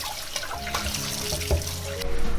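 Soaked beans being rinsed and shaken in running water in a home kitchen, with a steady trickle and splashing and brief louder sloshes, close and alone.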